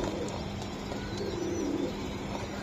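Busal pigeons from Khulna, kept among birds for sale, give a faint, steady cooing murmur beneath a constant background hiss, with no speech.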